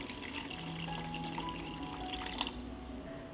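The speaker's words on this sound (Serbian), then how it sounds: "I nalit ću sa vodom" Water is poured into a pot of spiced vegetables, a faint, continuous splashing trickle with a slight gurgle, heard alone at low level.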